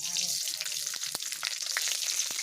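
Cumin, fenugreek and nigella seeds frying in hot oil in a wok give a steady, close sizzle with scattered crackles and pops throughout.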